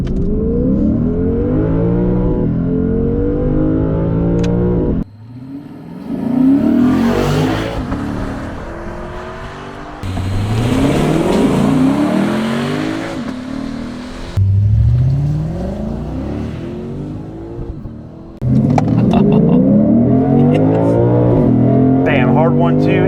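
A Lexus IS 500 launching hard and accelerating from 0 to 60 mph, its engine revving loudly through repeated rising gear pulls with brief dips at shifts, close and dominant, with people talking in the car.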